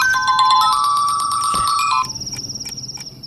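A mobile phone ringtone for an incoming call plays loud and close as a bright repeating electronic melody, then switches to a quicker pulsing chirp pattern.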